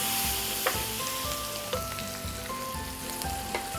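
Onions, minced garlic and a bay leaf sizzle and fry steadily in a pan, with a few clinks of stirring against the metal, close and continuous with no speech.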